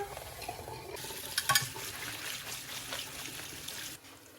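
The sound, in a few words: rinsing red kidney beans under water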